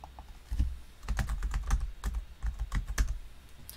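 Someone types on a computer keyboard while entering input in Visual Studio 2019 for a C++ program. Clicky keystrokes come in quick uneven bursts, close and clear, with no voices.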